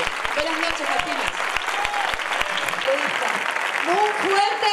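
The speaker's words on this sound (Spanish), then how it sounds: "Un fuerte aplauso, señores" Crowd applause at the coronation ceremony of the Facinas fair in 2014, a steady wash of clapping lasting throughout, with rhythmic low thumps, whistles, and a voice speaking over it.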